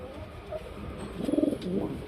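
A male pigeon of a single-tail breed coos in a few soft, low rhythmic bursts, close by and moderately quiet, with faint background noise.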